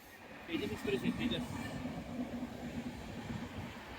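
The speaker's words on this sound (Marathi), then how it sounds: "वरतून ट्रेन चालली आहे" A train rumbles past overhead on a line above a tunnel, muffled and low, its steady roar swelling early and then continuing, with faint voices nearby.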